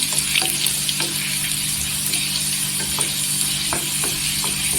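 Garlic frying to golden in oil in a pan, with a loud continuous sizzle and crackle and a few faint spoon ticks, heard close up with no talking.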